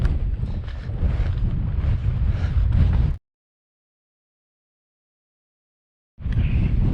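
Strong wind on the Wales Coast Path between Trefin and Whitesands Bay, roaring and buffeting against the microphone, then cutting out completely for a few seconds before gusting back in.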